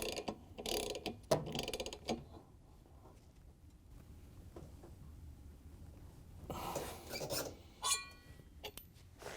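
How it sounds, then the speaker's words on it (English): A ratchet fitted with a 19mm socket tightens the spider arm nut on a Samsung washer tub, giving bursts of rapid close pawl clicking separated by a quieter pause. "We're going to tighten it down with a ratchet and a 19mm socket."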